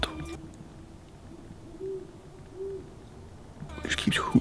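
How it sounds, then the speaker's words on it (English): An owl hoots repeatedly at night in a quiet setting, with two faint, low tonal hoots spaced apart over soft background noise, then a louder burst of rustling and close handling noise at the end. "There's a fucking owl that's been keeping me up for fucking 3 days."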